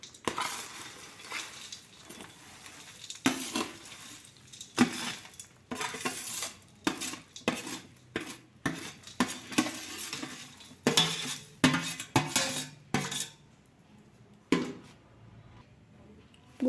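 A pan of adadiya pak, a jaggery-sweetened mixture, stirred after fried edible gum goes in: repeated scraping and clinking of a spoon against the pan in uneven bursts, close and fairly loud, with brief pauses and no talk.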